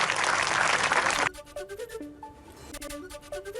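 A rally crowd in Maharashtra bursts into loud, dense clapping for about a second, then the applause cuts off abruptly and gives way to sparse musical tones.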